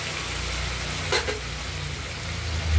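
Taro and shrimp curry fries in a pan with a steady, even sizzle and a brief brighter spatter partway through, close and continuous with no talk.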